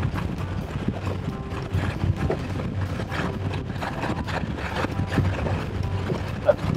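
A fishing boat motors along at about 7 knots on Charlotte Harbor, giving a steady, close, unbroken rush of engine, wind and water with no talking.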